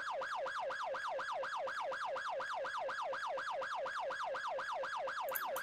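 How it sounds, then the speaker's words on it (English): A rapid wailing video game siren, rising and falling in quick, even cycles, sounds continuously and steadily, with no voices over it. "I still hear a siren going."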